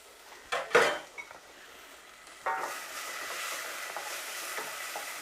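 Garlic dropped into a pot of onions on a grill: a clatter of metal against the pot, then a steady close sizzle of frying that fills the rest of the moment.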